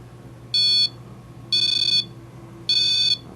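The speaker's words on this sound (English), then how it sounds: "Alright, now we have a REM pod." A REM pod paranormal proximity detector sounding its alarm during a ghost hunt in historic Condon, Oregon: three loud, shrill electronic beeps, each about a third of a second long, evenly spaced over a faint background hum.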